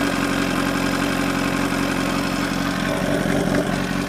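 A motorcycle engine idles steadily close by, a low rhythmic chugging that holds even throughout.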